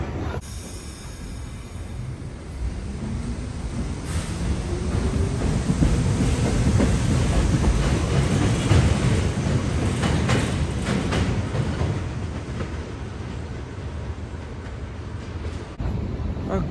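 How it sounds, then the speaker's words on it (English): A New York subway train gets moving from Franklin Avenue, its steady rumble and rolling clatter rising to a loud, sustained roar through the middle and then easing slightly toward the end. "we're going to get the train going"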